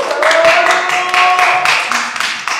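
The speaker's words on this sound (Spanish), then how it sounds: "ahora sí voy a pedir el apoyo y aplausos para mi compañero Miguel" Audience applause at a university capoeira welcome event, a steady wash of many hands clapping, loud and continuous throughout, with some faint tonal background underneath.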